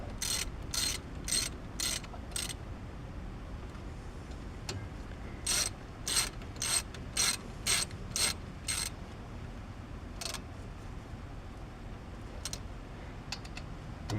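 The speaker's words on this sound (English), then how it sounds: "These are the 14mm. Just want to go ahead and tighten those up." A ratchet wrench tightening 14mm brake caliper bolts on a Chevrolet HHR clicks in quick bursts of rapid ticks, several runs of clicks separated by pauses, close and crisp with no talking.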